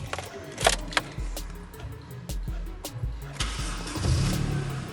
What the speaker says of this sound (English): This car started up the first tick over, and look how sweet the engine sounds as well.